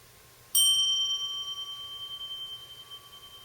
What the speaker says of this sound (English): The second period of zazen ends just as the first did, with a single bell and 1 clap